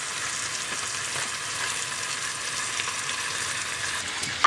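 Food frying in a pan gives a dense, continuous sizzle and crackle, close and steady throughout with no talking, ending with a brief clatter.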